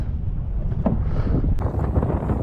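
Steady wind buffeting the microphone in a low, continuous rumble while fishing, with brief gusty thumps and no voices.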